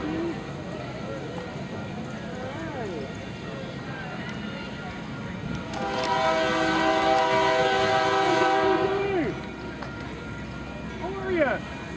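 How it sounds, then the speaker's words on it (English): A Union Pacific coal train of hopper cars rumbling past nearby in Rochelle, with a long horn blast in the middle, steady low rolling noise throughout, people talking faintly over it. "Looks like a coal train"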